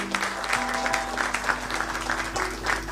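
An audience at a music gathering applauds to welcome guests, dense continuous clapping heard from a distance in a reverberant hall, with a steady low hum underneath.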